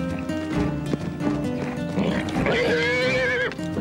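A horse snorts and shifts amid steady hoof noise, with a rising, wavering whinny-like cry toward the end.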